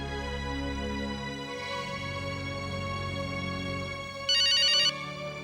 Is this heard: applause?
no